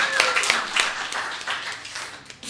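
Audience applause for a performer at a Western Australia music showcase concert: dense, loud clapping that holds steady across the moment and then begins to thin.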